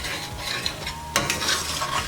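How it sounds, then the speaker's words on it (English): Flour cooking in a skillet for hamburger steak gravy while a utensil scrapes fond from the pan bottom: a soft steady sizzle with scraping strokes and one sharper metallic scrape partway through. "as that flour cooks, continue to scrape up the goop on the bottom"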